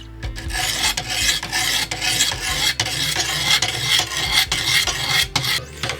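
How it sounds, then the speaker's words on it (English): A knife blade strokes repeatedly across the stones of a Wicked Edge Gen 4 Pro sharpener, giving a continuous close rasping scrape with rhythmic, slightly uneven passes and no talk. "I've gotten this knife that hasn't been sharpened in probably 40 or 50 years. I've gotten it up to 200 grit, and now I'm gonna proceed to 400 grit."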